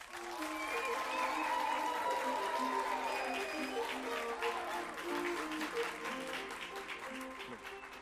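A studio audience gives sustained applause as a guest, Mr. Nabende Wamoto, walks on stage at a televised show, steady clapping lasting several seconds under a looping musical jingle.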